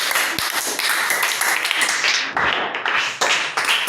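Audience clapping and cheering for a young performer at a church youth talent event in Mbuji-Mayi, a dense continuous roar of many hands and voices lasting throughout, loud and close with no speech.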